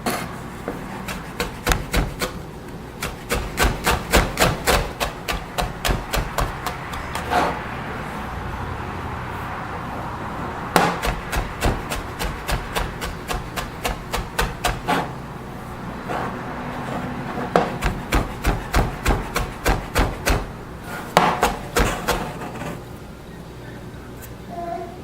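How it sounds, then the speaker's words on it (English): A knife chops orange zest on a cutting board for cranberry orange scones. Quick rhythmic taps come close together in several fast bursts with short pauses between them. "chop it up"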